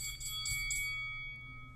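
A bell is rung to close out a segment of a UFC preview podcast, giving a few quick bright rings at the start that then fade into a long, sustained ringing tone lasting well over a second.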